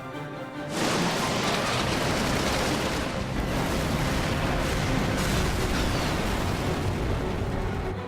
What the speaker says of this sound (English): Give word to the cannons. Make ready and fire.